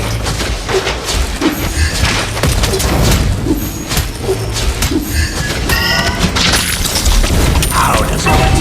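Mobile Legends battle with a turret being destroyed, heavy booming explosions and crashing impacts layered over busy game effects and a faint announcer-style voice.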